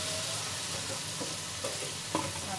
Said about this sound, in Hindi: जब तक मसाला हमारा भून गया है तो डाल देते सारी सब्जियाँ